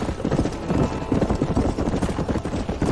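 A horse gallops in Red Dead Redemption, its hooves pounding in a fast, steady rhythm that stays loud and close throughout.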